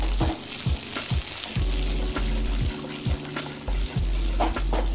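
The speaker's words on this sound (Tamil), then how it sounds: "இதை வந்து நல்லா வந்து வதக்கிடுங்க" Steady sizzling and frying of onion and green chili sautéing in a pan, with occasional stirring scrapes and clicks throughout, close and fairly loud.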